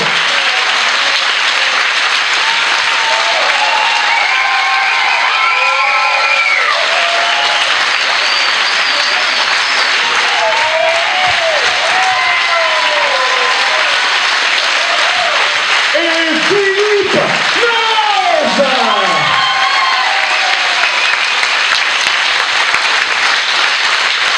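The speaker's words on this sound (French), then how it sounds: "je vous demande un tonnerre d'applaudissements pour Yann Berthelot, Noël Daubier, Christian Baumann et Cécile Giroux" Thunderous audience applause for improv performers at a festival show, sustained loud clapping over the whole stretch with cheers, whoops and voices rising through the crowd.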